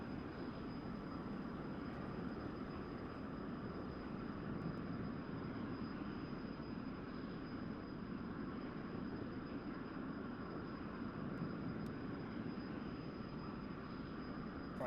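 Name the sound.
F-100D jet aircraft climbing in DCS video game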